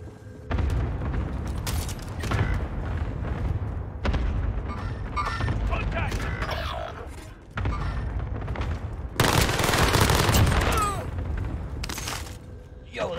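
Rapid bursts of PPSh submachine gun fire in a first-person shooter video game, mixed with booms, explosions and other game noise, with a player talking over parts of the action.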